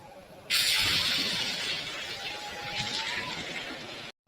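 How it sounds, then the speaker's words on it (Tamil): A sudden loud thunderclap bursts in during rain and rolls on as a dense, crackling rumble that slowly fades; a faint voice can be heard underneath. "ஏ அப்பா என்ன இடி"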